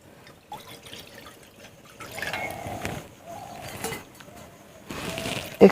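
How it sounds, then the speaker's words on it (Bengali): Water poured into a wok on a lit stove for cooking fish with cabbage, faint irregular splashing and trickling with a few louder gushes, close by and without talk. "ওই কড়ার মধ্যে এখন জল দিয়ে দিচ্ছি।"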